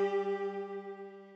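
An announcement chime in the video game Danganronpa V3, a single clear bell-like tone with steady harmonics that rings alone and slowly decays over a second and a half.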